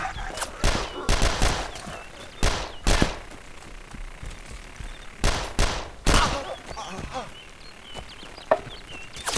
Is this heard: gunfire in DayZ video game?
yes